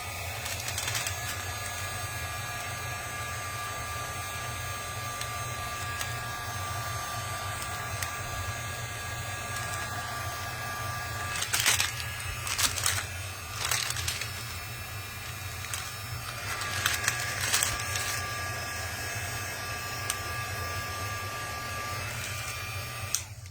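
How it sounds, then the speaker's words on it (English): A single-temperature heat gun blowing on a white candle, a steady whirring airflow hum with a low motor drone, punctuated midway by a few brief louder rattles and clicks, with no talk. "my heat gun only has one temperature"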